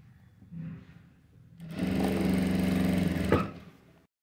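A sewing machine runs a continuous stitch along the edge of a blouse for about two seconds, a steady close whirring rattle that starts abruptly and stops, preceded by a soft voice.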